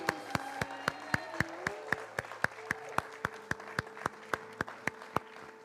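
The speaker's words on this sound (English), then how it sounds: "A big round of applause," Wedding guests at an Indian ceremony clap in a steady, evenly spaced rhythm, sharp distinct claps about three per second, over a sustained musical drone and soft background murmur, moderately near.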